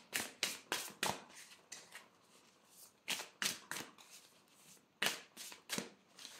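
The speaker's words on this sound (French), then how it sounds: "Je vais prendre l'oracle de la triade et on va venir recouvrir le tirage." Oracle cards are shuffled by hand in close, crisp bursts of riffling, several quick flurries separated by short pauses, with no talking.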